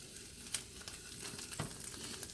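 Ramps frying in butter in a pan, a faint, steady sizzle with a few soft crackles and pops, heard alone without talk.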